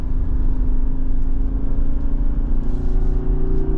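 A Jeep Wrangler Rubicon 392 engine drones loudly and steadily through a hairpin turn on a bumpy road, a continuous low rumble with a slight shift in pitch near the end, heard close from inside the cabin.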